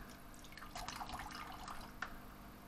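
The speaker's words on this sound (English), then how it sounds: "I've got the water running" Faint trickling and dripping of cooling water running through a homemade induction heater setup on a workshop bench, quiet and irregular under a low background hum.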